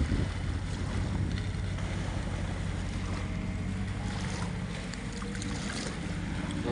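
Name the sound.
fast-flowing river water at Rajahmundry bridge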